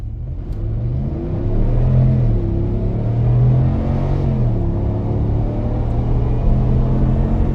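A stock Ram 1500 pickup fitted with a green high-performance air filter accelerating from 0 to 60, a loud, deep engine roar climbing in pitch through gear shifts, heard from inside the cab without talk.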